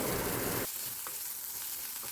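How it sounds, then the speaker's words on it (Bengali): Grated coconut sizzles hard as it fries in a pan in a home kitchen. A loud burst of crackling fat at the start settles into a steady hiss, with faint stirring scrapes and no talk. "এই যে নারকোল ভাজা করছি"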